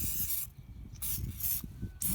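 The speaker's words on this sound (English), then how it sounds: "some cooking spray on both sides" Cooking spray hisses in repeated short bursts onto both sides of a wild turkey leg before smoking, each spritz a close, bright blast separated by brief pauses.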